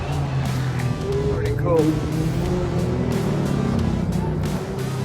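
Race cars on track at Nurburgring Turn 1 during an evening qualifying session for the 24-hour race, engines droning and passing with shifting pitch in a steady stream under crowd noise, while someone talks briefly.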